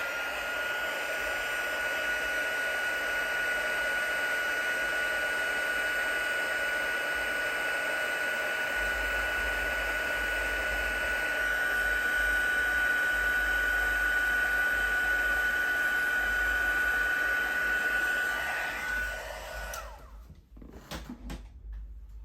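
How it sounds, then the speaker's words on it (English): A craft heat tool blows hot air over a project with a steady, close, whooshing roar and a faint high whine, running continuously for about twenty seconds before switching off with a few clicks. "We'll just heat it with a heat tool."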